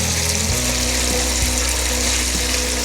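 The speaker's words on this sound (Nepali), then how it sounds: "यो धाराबाट चिसो पानी आइरहेको छ र यो नबलाई अफ गर्नुहोस् र यसबाट तातो पानी आइरहेको छ" Water pours steadily from a tap water heater faucet, a constant close rush with a low electrical hum beneath it and a slight shift in tone at the start.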